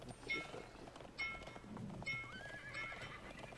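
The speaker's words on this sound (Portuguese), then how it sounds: "Passou um cara de cavalo aqui agora." A horse in the Realm Royale video game clip-clops past at a trot, its hooves drumming in short bursts between a few whinnies, fairly close and alone without talk.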